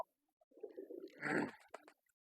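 Fancy pigeons kept in a cage give a short, low, throaty coo, close and fairly quiet against a silent background.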